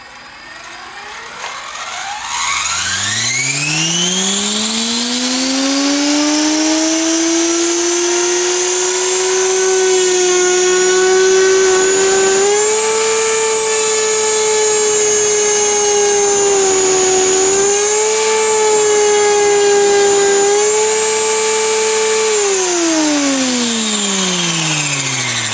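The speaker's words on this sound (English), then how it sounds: "We're going to fire it up, see what the forces are." An Align T-Rex 500 RC helicopter with metal tail blade grips spools up on a test, its rotor whine rising steeply into a loud, steady high-pitched drone that holds with slight pitch wobbles, then begins to wind down near the end.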